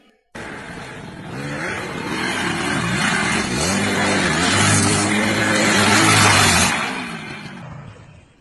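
A motorbike engine revs hard and climbs in pitch, loud and close, then pulls away with a rising, droning roar that fades as it rides off.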